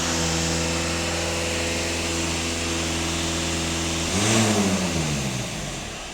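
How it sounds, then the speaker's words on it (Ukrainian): A Skoda Octavia 2.0 TDI diesel engine idles steadily, then revs up sharply for a moment before settling back toward idle. "зараз будуть більші оберти"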